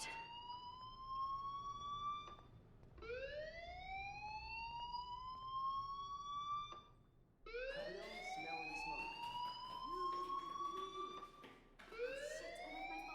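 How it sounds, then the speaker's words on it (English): A fire alarm in the video game Life Is Strange Remastered sounds in repeated rising electronic whoops, each sweep lasting a few seconds, loud and steady with brief gaps and a faint background underneath. "do you hear that fire alarm? That means you should be outside."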